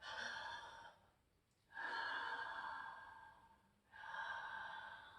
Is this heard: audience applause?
no